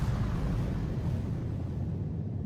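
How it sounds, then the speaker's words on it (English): An M67 frag grenade goes off in ARC Raiders, a loud sustained rumbling roar of blast and debris that stays heavy and steady before slowly thinning out. "M67 frag grenade."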